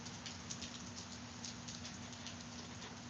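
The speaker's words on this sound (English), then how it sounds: "Well, we really needed the rain here." Rain falls steadily outdoors, a soft continuous patter and hiss at low level with occasional slightly brighter drops, no talking.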